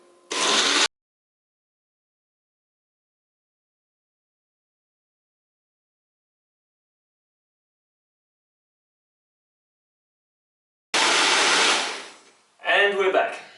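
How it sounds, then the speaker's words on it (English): A blender whirs loudly blending a spinach smoothie in two short bursts, the first under a second long and the second after a long silence, followed by a brief second surge. "throw it on the blender and give it a go"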